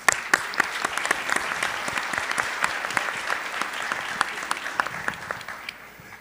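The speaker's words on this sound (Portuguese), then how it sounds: "Queria que vocês aplaudissem Piracicaba." An audience claps steadily for Piracicaba's 257th anniversary, dense sustained applause with sharp individual claps standing out, loud and continuous for several seconds.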